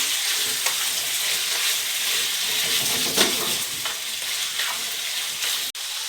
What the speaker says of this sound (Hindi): जब तक इसका कलर चेंज नहीं होता इसको पकाते जाना है, ऐसे थोड़ा थोड़ा हिलाते जाएंगे दोनों साइडों से